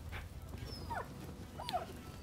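A dog in the video game Rise of the Ronin lets out two short, faint whimpers over low background noise.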